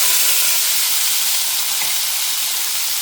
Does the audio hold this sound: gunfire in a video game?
no